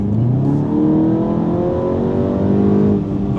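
A Volkswagen Golf GTI Clubsport MK8.5 engine drones loudly and steadily at close range, its pitch rising slightly as it revs, with no talk over it.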